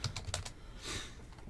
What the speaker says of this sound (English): So let me just type them in.